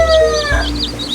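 A mother hen with newly hatched chicks: high, wavering peeps from the chicks come close and fairly loud, over a low hen cluck, with no talking.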